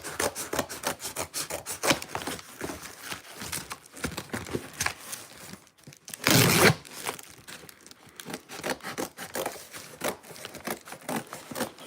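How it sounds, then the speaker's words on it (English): Excess cardboard packaging being cut away, giving a busy run of close scraping, tearing and crinkling noises with one louder rip partway through. "Cut off some of this excess cardboard because there's quite a lot of it."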